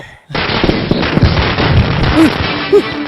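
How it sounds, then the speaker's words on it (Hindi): A dense string of firecrackers bursts in a village welcome in a Hindi-dubbed South Indian movie scene, rapid, continuous crackling pops, loud and close, with faint voices in the background. "पटाखे फोड़ो।"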